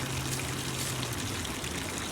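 Water gushing and splashing steadily from a hose or pump during a dog's water play day, continuous and fairly close, with no talk over it.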